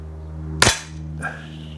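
A single sharp shot from a Weihrauch HW40 PCA .177 CO2 air pistol, loud and close, followed by a faint mechanical click against a steady low background hum.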